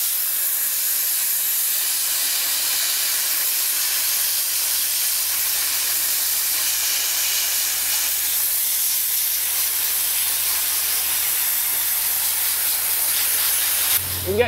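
Dry ice blasting on the undercarriage of a BMW E36 M3 produces a loud, continuous high-pressure hiss and spray close by, steady throughout with a brief clatter right at the end.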